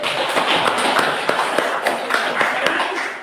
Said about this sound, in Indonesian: Tepuk tangan yang mulia sekali